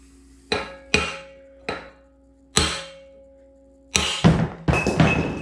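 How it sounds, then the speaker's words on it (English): A hammer strikes metal in the workshop, knocking the pinion out of a Dana 60 axle carrier: about seven sharp, ringing blows, evenly spaced at first, then several in quick succession at the end, close and loud. "So we're just gonna knock the pinion out."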